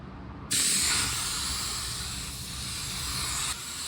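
A spray gun lays paint on a car, starting abruptly as a loud, steady close hiss that holds evenly for about three seconds before dropping back.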